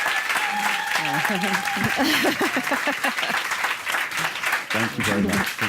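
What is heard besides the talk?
applause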